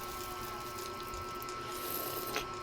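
Vinegar is poured onto balut, a boiled duck egg, in a quiet, steady trickling liquid stream that runs for a couple of seconds, close and without talk.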